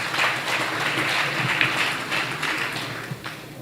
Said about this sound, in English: Let's give a bigger hand clap to our chief guest.